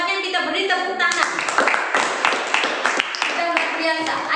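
A classroom of students applauds a classmate with a burst of hand clapping, dense and sustained after the first second, with a voice heard talking over the start.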